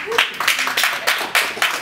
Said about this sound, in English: Let's hold our applause.